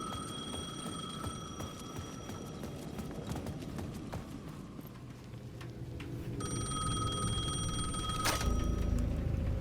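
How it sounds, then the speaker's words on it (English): A payphone rings at the edge of a plaza in the video game Alan Wake 2. Its bright, steady electronic ringing tones come in partway through, layered over busy clattering and footstep-like game ambience, with no talking. "The payphone at the edge of the plaza was ringing again."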